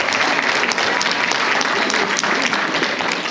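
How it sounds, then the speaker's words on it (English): Audience at HauntCon applauding its instructors: a full, even roar of many hands clapping at once, sustained and unbroken throughout with no voices rising above it. "All of you instructors, you guys deserve a round of applause."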